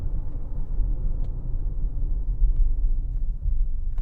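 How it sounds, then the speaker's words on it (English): A 2026 Toyota RAV4 XLE Premium hybrid's engine fires up during hard braking, a low, steady rumble and drone beneath road noise from inside the cabin, without talk. "Engine fired up there. Typical Toyota hybrid, you can feel it kind of rumble on"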